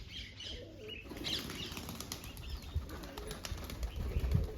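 Pigeons flap their wings in flight, a rapid fluttering that comes and goes, with a few faint coos and chirps.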